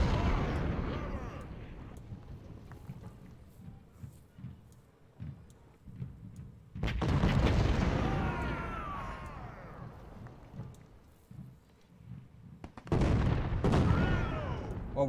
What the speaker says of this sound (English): We're killing them one at a time with this artillery.